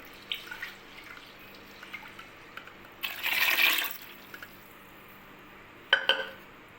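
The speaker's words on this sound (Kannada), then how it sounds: "ಇನ್ನೊಂದು ಸ್ವಲ್ಪ ನೀರು ಹಾಕಿ" Water is poured at Navratri ghat-sowing, a short splashing pour midway, then a brief drip-like splash near the end, with quiet room sound around it.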